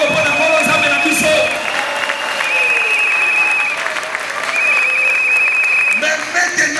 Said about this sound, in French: acclamez le Seigneur notre Dieu